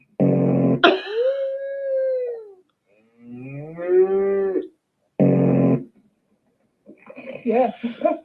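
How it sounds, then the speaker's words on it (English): Several loud, drawn-out cow moos from close by, with long bellowing calls spaced across the clip and a rougher call near the end. "Good morning, cow."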